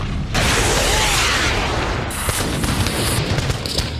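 Explosions and shelling from rockets, missiles and artillery in the fighting over Nagorno-Karabakh burst out as a loud, dense roar of booms and crackling blasts layered over one another, continuous throughout with no voices.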